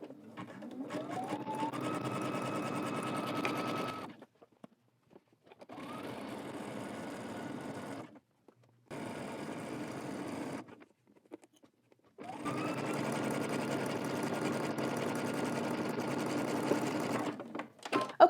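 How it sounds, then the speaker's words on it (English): Sewing machine stitching a narrow zigzag stitch along elastic attached to a bodice, a steady close motor whir running in several long bursts separated by short pauses. "I'm using a very narrow zigzag stitch, and I'm just going to be sewing along the center as I attach my elastic"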